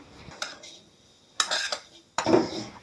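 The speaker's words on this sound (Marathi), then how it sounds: "आता या तुपामध्ये हा रवा व्यवस्थित असा परतून घ्यायचा" Semolina is roasted in hot ghee and stirred in a pan. A utensil scrapes and clinks against the metal in three separate bursts, with quiet gaps between them, close and moderately loud.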